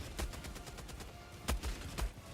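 A weapon in Helldivers 2 fires at its slowest rate, a rapid string of close gunshots with a few heavier, louder blasts standing out near the end.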